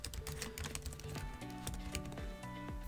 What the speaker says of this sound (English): And you just type in your styles right here.